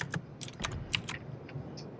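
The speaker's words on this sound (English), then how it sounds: "Sounds like you're typing out a resume." Typing on a computer keyboard, a quick irregular burst of crisp key clicks close to the mic, then a few slower taps, fairly quiet over a faint room hum with no talk.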